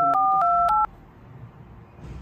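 Phone keypad tones beep as a number is dialed, a quick run of about six short, clear dual-tone beeps, followed by a quiet, faintly hissy pause.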